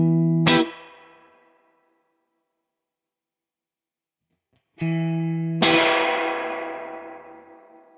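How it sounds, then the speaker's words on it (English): Electric guitar chords played through a Crazy Tube Circuits White Whale V2 reverb pedal with the dwell control changed: one strummed chord rings out and decays, then after a pause two more chords bloom with a longer, brighter reverb tail. "So if I play a chord, turn down the dwell and turn up the dwell, you'll hear the difference."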